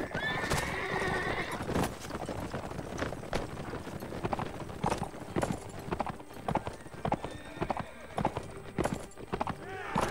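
Horses in the video game Mount and Blade Warband neigh and gallop, a continuous rapid drumming of hooves with sharp whinnies, over a noisy battle din at moderate loudness.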